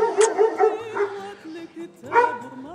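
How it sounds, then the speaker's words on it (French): A small dog yaps and whimpers repeatedly beside people talking, during a walk through the village of Ighil Noughou in Morocco near its synagogue and cemetery. "un petit chien."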